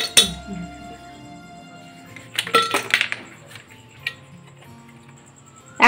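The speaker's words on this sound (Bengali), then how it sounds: "আইস কিউব কিছু নিয়ে আমি জগে দিয়ে দিচ্ছি।" Ice cubes dropped into a jug give a few scattered clinks and hard knocks, mostly light and close, with quiet gaps between them in a home kitchen.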